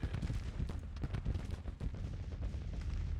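Skirmishers firing rifles in a Civil War video game, a steady crackle of overlapping musketry shots with low rumbling reports, dense and continuous, no voices over it.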